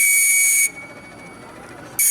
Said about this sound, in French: Tu veux bien me donner un dernier petit coup de sifflet?